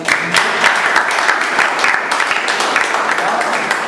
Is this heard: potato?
no